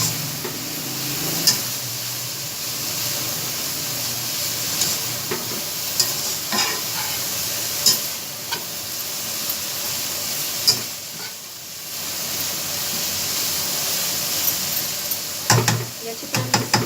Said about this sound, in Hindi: अब ये इसमें हमने ड्राई स्पाइसेस डाल दिए हैं, इन्हें भी फ्राई कर लेंगे इनके साथ।